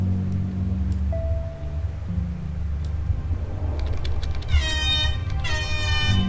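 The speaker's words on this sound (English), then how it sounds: "Honk. An air horn." An air horn blasts twice near the end, loud harmonic honks cutting over a low steady rumble and scattered clicks.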